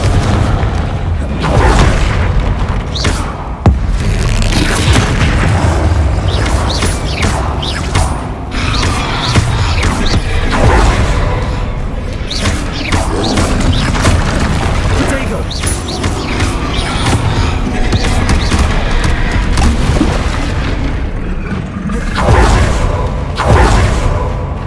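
Fire spell explosions in the video game Hogwarts Legacy, with loud, continuous booms, whooshes and crashes during combat, layered over game music and effects with brief character voices.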